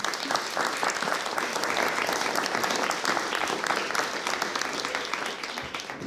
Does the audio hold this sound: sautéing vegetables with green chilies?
no